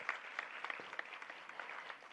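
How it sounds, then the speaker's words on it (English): Applause for a singer from an audience at a Bharatanatyam arangetram recital: steady, fairly faint clapping from many hands, even and continuous throughout. "A big round of applause for Mithun."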